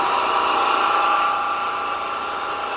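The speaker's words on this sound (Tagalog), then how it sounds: "Boss, ito po yung order po ninyo na pelletizer machine." A pelletizer machine making feed pellets runs steadily with a loud, even mechanical drone and engine-like hum, with no talk over it.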